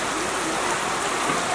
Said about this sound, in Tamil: ஏன்னா மழையும் அந்தளவுக்கு விடாமல் பெஞ்சிட்டு வருது